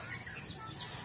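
Chickens on a farm where chickens and ducks are fed cluck faintly amid a steady outdoor background hum, with a thin continuous high tone running throughout.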